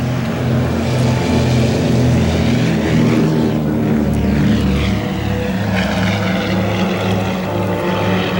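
An airplane flies past at an airshow, a loud, steady propeller engine drone with a pulsing rhythm and a shifting pitch as it passes close overhead.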